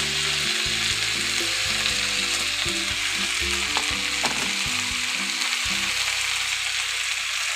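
Mixed vegetables with ground spices frying in a pan, a loud constant sizzle broken by scraping and stirring strokes throughout, with no voices.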